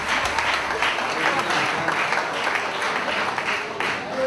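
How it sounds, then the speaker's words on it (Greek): Steady applause from a crowd welcoming a volleyball player as he is introduced, a dense, even clapping sound lasting the whole few seconds with no pauses. "Ένα χειροκρότημα λοιπόν"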